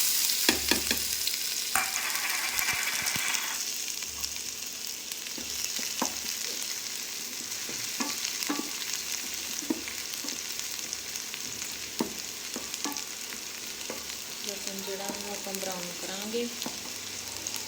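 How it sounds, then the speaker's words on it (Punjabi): Garlic sizzles in hot oil in a pan, cooked as the base for mustard greens saag, with a constant crackling hiss and repeated scraping stirs of a utensil, close and fairly loud. "ਤੇਲ ਆਪਣਾ ਗਰਮ ਹੋ ਗਿਆ ਵਾ ਹੁਣ ਆਪਾਂ ਪਾਵਾਂਗੇ ਵਿੱਚ ਲਸਣ"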